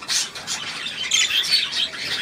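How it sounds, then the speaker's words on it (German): Bird chirping continuously, bright high-pitched tweets and calls repeating throughout, fairly close and clear with no speech. "Da ist der Vogel für die Anna-Maria"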